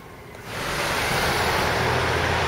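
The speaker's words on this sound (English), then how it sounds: "There is a wind, and it's chilly." Wind blows outdoors in chilly weather, a steady broad rushing roar that swells in after half a second and stays loud, buffeting the microphone with no voices.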